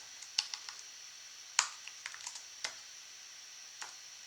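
Fingers type on a computer keyboard in short irregular bursts, crisp close clicks with a sharper keystroke midway, quiet between presses and no talking.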